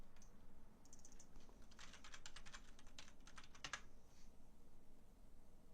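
Someone types on a computer keyboard in soft bursts of quick clicks, fairly faint and close, with short pauses between the runs of keystrokes.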